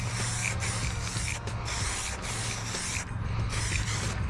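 A cheap purple Harbor Freight spray gun lays a light coat of paint on plastic and fiberglass edges, hissing in short, repeated bursts with brief gaps between passes.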